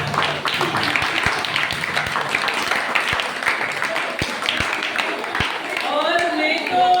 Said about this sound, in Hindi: पहले तो बच्चों के लिए तालियां